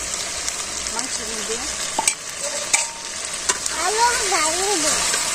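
Potatoes being added to meat in a pan and stirred: a steady sizzle of frying with scraping stir strokes, a voice talking over it in a home village kitchen.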